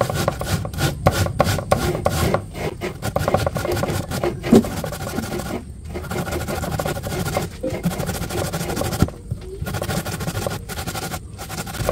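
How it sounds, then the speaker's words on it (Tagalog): Gumaan being grated by hand for suman, a steady coarse rasping scrape repeating in quick strokes, loud and close, with brief pauses between runs of grating. "nagkakayod po si Seth nung gumaan"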